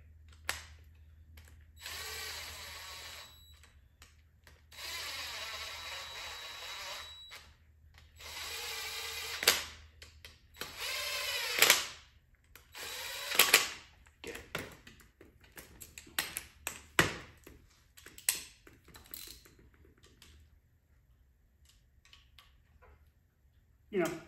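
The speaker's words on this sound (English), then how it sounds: "Run these in quick and I'll tighten them up with the socket." Bolts are run in and snugged with a socket on a 2.4 Ecotec VVT engine during a timing chain and balance shaft job: bursts of a power driver whirring, then sharp clicks and ratcheting taps, with someone talking between them.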